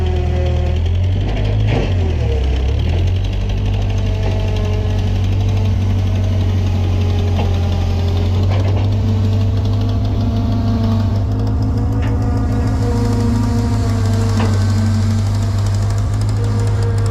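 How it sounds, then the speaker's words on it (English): A skid steer loader's diesel engine runs close by for the whole stretch, a loud, steady idle with a deep throbbing rumble and a few brief shifts in revving, heard on a farm during feed grinding work. "I'm gonna get the skid steer, and we'll use that to pull it out of there"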